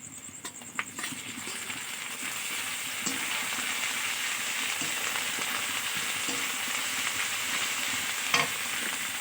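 Ginger-garlic paste fries in a pan with cumin and chopped onion for a spicy chicken kosha, an even, moderately loud sizzle with occasional stirring clinks and scrapes, heard alone without speech.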